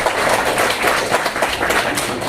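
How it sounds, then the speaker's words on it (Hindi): A crowd at a World Labour Day gathering in Baramulla breaks into loud, dense applause for labourers, a steady wash of many hands clapping close by without pause. "उनके लिए एक बहुत ज़ोरदार तालियां"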